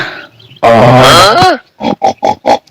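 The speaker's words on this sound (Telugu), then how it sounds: "అవు పందులు ఆల్రెడీ ఉన్నట్టున్నాయి సిగ్నల్ ఇస్తున్నాయి" Pigs in a forest: a long loud squealing grunt followed by four short rhythmic grunts, close and clear against quiet surroundings.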